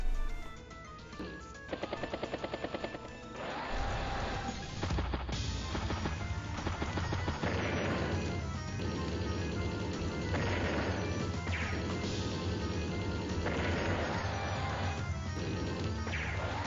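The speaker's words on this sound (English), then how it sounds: "Artillery gets a good strike on the medium tank" Artillery striking a medium tank in the video game Advance Wars: Days of Ruin, a run of repeated crashing impacts and rattling bursts over a steady game soundtrack, loud and rhythmic with no voices.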